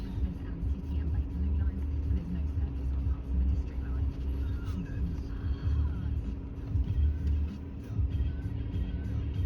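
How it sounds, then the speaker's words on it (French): A truck rumbles past on a residential London street, a steady low engine drone and road noise heard up close, with a person talking over it throughout. "le camion passe."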